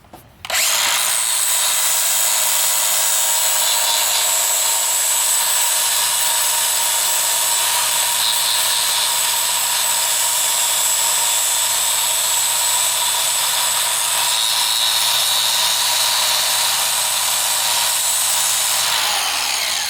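A power tool trims a cut metal plate that was rubbing against a frame, a loud, continuous high whine held steadily for nearly twenty seconds after a brief start.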